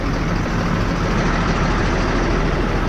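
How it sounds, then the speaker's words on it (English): An old, high-hours Fendt 926 tractor engine runs loud and close as a dense, continuous rumbling roar that holds steady throughout. "Oh yes, the old Fendt 926."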